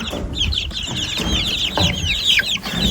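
Hens cluck in a backyard coop, one settled in a nesting box, with repeated high clucks and chirps close by over a steady low rumble of background noise.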